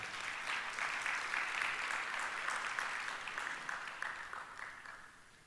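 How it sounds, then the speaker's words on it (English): A conference audience applauds the company CEO and title sponsors, steady clapping from a sizable crowd that holds strong for several seconds before gradually thinning out. "Can we a big round of applause for them?"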